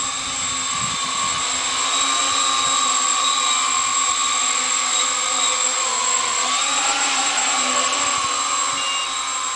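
A 2008 quad-rotor UAV prototype in flight gives a loud, steady whining drone with high tonal rotor hum, continuous and close throughout, with no speech.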